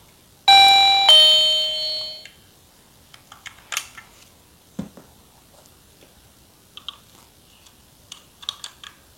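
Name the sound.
motion sensor electronic guest-greeting doorbell chime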